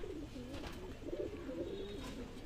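Madrasi pigeons kept for sale in Delhi coo in low, wavering phrases nearby, a soft continuous burble with no talk.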